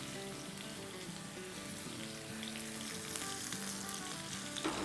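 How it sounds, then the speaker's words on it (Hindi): Thinly cut potato fries for Schezwan fries crackling in hot oil as they are gently stirred, a continuous close sizzle with a few scraping stir sounds and a brief knock near the end, no voices. "इस तरह से हल्के हाथों से फ्राई करेंगे"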